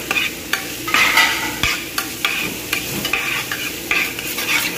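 Beef goulash sautés in a pan while a utensil stirs it steadily, with repeated scraping strokes in a loose rhythm over a continuous sizzle, close and loud.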